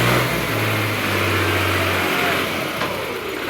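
A tractor engine revs while reversing down a slope with weak brakes. A steady, loud low drone holds for about two seconds, then gives way to a rougher, fading rumble.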